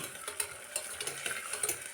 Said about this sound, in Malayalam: ഉള്ളിയെല്ലാം ഇട്ട് കൊടുത്ത ശേഷം ഒന്ന് ഇളക്കി കൊടുക്കാം.